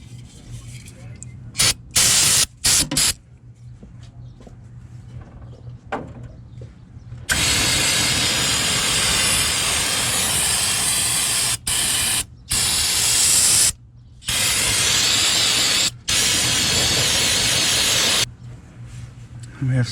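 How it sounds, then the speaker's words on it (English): Aerosol brake cleaner sprayed onto a master cylinder from an 88-98 Chevy OBS truck, loud hissing bursts in several long and short blasts separated by pauses. "Some brake clean."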